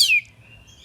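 An orange-headed thrush sings a bright downward-sweeping whistle, close and clear, then fades to a thin sustained tone over faint low background rumble.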